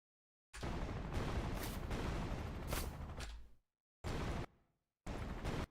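Video game explosion effects under development play as loud bursts of blast and crackle: one long roaring stretch, then two shorter bursts separated by abrupt silences, with no voices.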